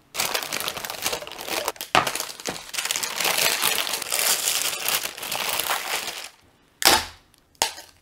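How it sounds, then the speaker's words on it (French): Paper being peeled off homemade honeycomb caramel candy, a long close crackling crinkle that stops abruptly, followed by two short sharp crackles. "Maintenant je vais enlever tout le papier, tout ce qu'il y a autour"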